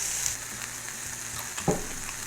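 Onions sizzle and fry on a Ninja GR101 indoor grill, a close, steady crackling hiss with a few brief pops and clatters, no talking.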